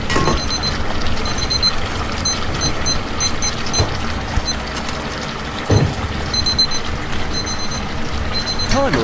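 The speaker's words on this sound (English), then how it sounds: "Timer is done." A kitchen timer alarm beeps in short repeated bursts, fairly faint beneath steady background noise and some clatter.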